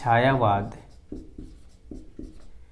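Chalk or marker writing on a classroom board during a Hindi grammar lesson, a teacher's voice first, then four short scratchy strokes spaced apart, close and moderately loud.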